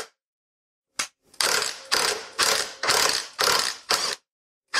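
A ratchet wrench with a 12 mm socket on a reducer works a bicycle headset and fork nut loose, producing a run of loud, close, buzzing ratchet clicks in regular strokes, with no talking.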